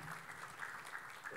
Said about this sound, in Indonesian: Tepuk tangan untuk Allah kita yang dahsyat